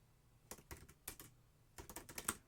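Fingers tap a computer keyboard while typing Python code, quiet close clicks in two short bursts with a brief pause between.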